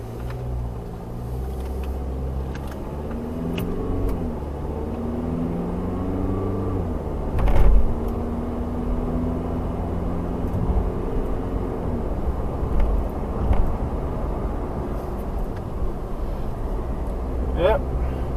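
An accident-repaired car climbing uphill on a rocky road, with a steady low engine rumble and tyre noise close by, a jolt and thump about midway, while people talk inside the cabin throughout.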